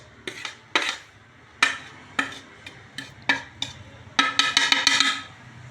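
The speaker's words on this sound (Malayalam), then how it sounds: "ഞാനിപ്പോൾ ഈ പഞ്ചസാരയും ഇതും കൂടി ഇതിലേക്ക് മിക്സ് ചെയ്യണം" A spoon stirs sugar into a mixture in a bowl for a no-cook sweet, making sharp clinks and scrapes against the bowl in an irregular rhythm, ending in a quick flurry of taps, close up.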